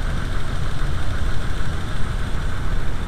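A VW T4 Eurovan's 2.5L engine runs steadily at around 2000 rpm during an ignition timing check, giving a loud, close, continuous rumble with an even texture and no talk.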